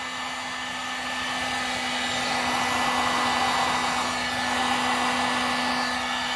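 A heat gun blows hot air onto a shoe with a steady, loud fan rush and a constant low hum, running continuously without pause.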